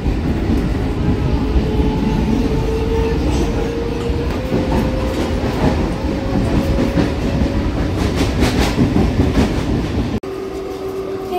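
A commuter train leaving Mogra station runs along the rails, a loud continuous rumble from inside the carriage with a rising motor whine and rhythmic wheel clatter, cut short near the end.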